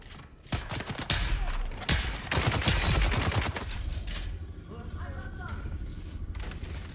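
Bursts of game gunfire in Dune Awakening, with dense rapid shots up front that give way to lighter sporadic firing under a steady rumble, while a person talks over it.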